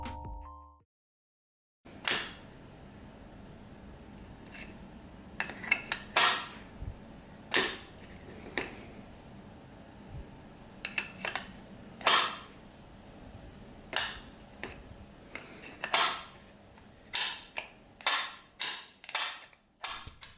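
Keys on a custom keyboard clack in uneven bursts of crisp taps, close and clear, speeding into a quick run of strokes near the end.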